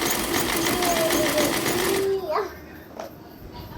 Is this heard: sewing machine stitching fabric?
yes